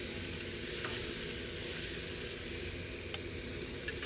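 Sausage and onions sizzle steadily in a hot pan, a constant close frying hiss with faint scrapes and small pops, no talking.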